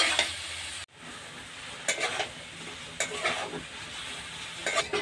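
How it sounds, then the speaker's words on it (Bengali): Bottle gourd and potato are sautéed with salt and spices in a pan for a prawn-and-gourd dish, giving a steady close sizzle with repeated scraping stirs, a brief drop to near silence early on, then more spoon strokes. "এবার আমি ভালো করে কষিয়ে নেব লাউ আর আলুটা"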